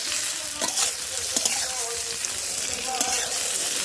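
Paneer curry for a vegetarian badam paneer dish is stirred and fried in a pan, giving a steady close sizzle broken by scraping spatula strokes at irregular intervals.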